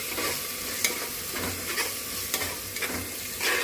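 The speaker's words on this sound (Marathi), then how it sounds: "हे जे मसाले आहेत ना सगळे आपण जे घेतलेत ते सगळे मसाले टाकून देऊया आणि इथं मस्त मिक्स करून घेऊ छानसं" A spoon stirs spices into prawn biryani in a hot pan, with a steady sizzle and a few scraping knocks against the metal.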